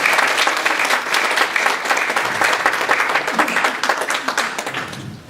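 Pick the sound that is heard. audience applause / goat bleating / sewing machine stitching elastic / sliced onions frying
audience applause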